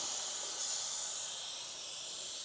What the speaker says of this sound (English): And that sound is a pressure relief valve.